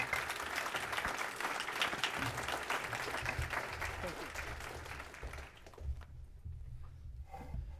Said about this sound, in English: let's give Provost Wickert a round of applause.